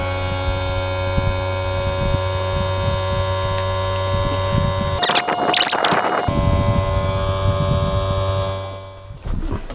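The electric pop-up roof of a 2007 VW California SE campervan with a 2.5 litre diesel rises, a steady loud motor hum and whine with a brief louder mechanical burst midway before the drone resumes and fades at the end.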